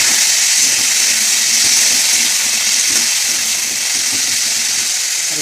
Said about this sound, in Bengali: আলুটা ভাজা ভাজা করে নিই।